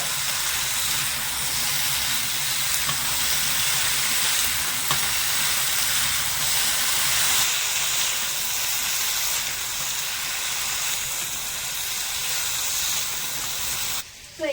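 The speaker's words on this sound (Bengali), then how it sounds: "এখানে বেগুনটা দিয়ে নেড়ে ছেড়ে একটু বেগুনটাও ভেজে নিয়েছি" Brinjal and peas fry in oil in a pan, giving a steady, dense sizzle and hiss that runs the whole length, with a few soft stirring scrapes and a brief clatter at the very end.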